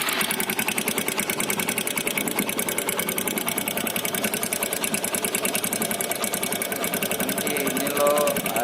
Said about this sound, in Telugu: మనం డైరెక్ట్గా ఇంజిన్ స్టార్ట్ చేసి ఇంజన్లో ఏం సౌండ్ వస్తుంది